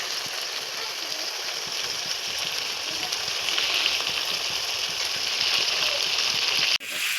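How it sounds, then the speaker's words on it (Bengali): Water pouring into a pot of meat and potato curry, a continuous splashing hiss that holds steady for several seconds and cuts off abruptly near the end, with no talk. "আলুকে আর একটু কষে জল দিয়ে দিই"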